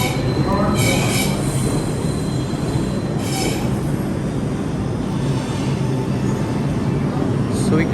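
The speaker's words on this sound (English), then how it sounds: "So we're at the train track." A New York City subway train pulls into an underground station with a loud, steady roar, while high metallic wheel squeals cut in and fade repeatedly throughout.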